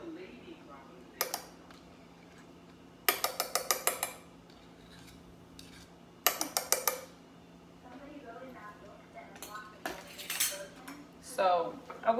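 A fork scraping vegan alkaline mayo out of a container, with several bursts of rapid metallic scraping and clinking, close and fairly loud, separated by quieter gaps with soft background noise.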